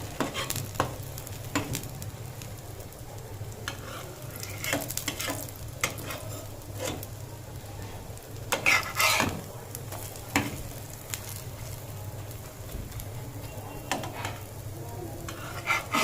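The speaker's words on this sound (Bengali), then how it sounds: "দিয়ে একটু হালকা লাল লাল করে ভেজে নেব" Pancake batter fries in oil in a pan with a soft, continuous sizzle, broken by intermittent scraping and clattering stirring sounds nearby.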